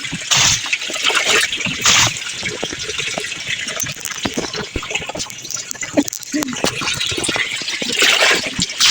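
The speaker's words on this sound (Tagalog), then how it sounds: "Lalagyan ko siya ng tubig." Water pouring and splashing as a washing machine is filled for laundry, an uneven gushing trickle that swells and fades, with voices talking throughout.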